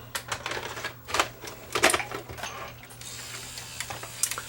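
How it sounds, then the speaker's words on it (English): A Sony EDV7300 Betamax VCR loading an ED metal tape gives off a run of close mechanical clicks, whirs and clunks with uneven rhythm, ending in a steadier motor hum. "We're going to let the tape load up."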